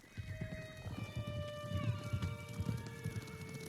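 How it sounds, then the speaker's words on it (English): Rapid hoofbeats of several horses galloping close by in the video game Ghost of Tsushima, drumming irregularly under sustained musical tones, with a short neigh partway through. "Horses, they're coming for us."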